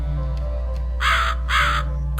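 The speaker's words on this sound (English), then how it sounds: "There's that crow again" A crow in The Cat Lady video game caws twice, two loud harsh calls about half a second apart over a low droning game ambience.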